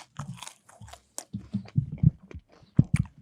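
Crunchy fries being bitten and chewed close to the mic, a run of sharp crackly crunches and chomps in quick irregular bursts with no talking over them.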